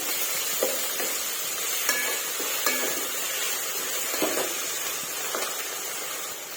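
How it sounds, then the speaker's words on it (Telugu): Continuous hissing sizzle of ginger frying in oil, with occasional light scrapes and taps of stirring. "ఇప్పుడు ఈ అల్లం కొద్దిసేపు వేయించుకోవాలి"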